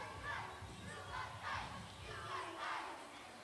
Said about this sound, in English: Yeah, can hear them chanting.